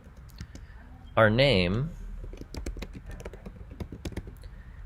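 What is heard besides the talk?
typing on a computer keyboard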